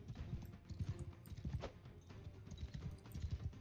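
Rhythmic video game horse hoofbeats clip-clop steadily at a trot, fairly close, with no talking.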